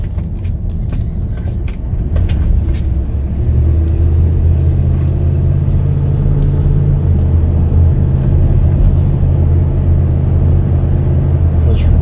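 A 2008 Ford F150 XL regular-cab pickup with a 4.6 liter V8 drives along, its engine and road noise forming a steady, loud low rumble that swells slightly after a few seconds and holds smooth throughout.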